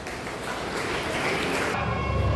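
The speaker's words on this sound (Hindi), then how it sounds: "तालियों से उनका स्वागत करें।" Applause greeting a B.Ed college students' drama group at an Independence Day event, a dense, steady wash of clapping filling the hall without a break.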